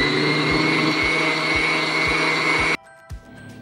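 An electric mixer beats milk, butter, sugar and egg yolks for a coconut cake batter, a steady loud whirring drone with a regular rhythmic thump, then cuts off abruptly, leaving a quiet room with a faint clack.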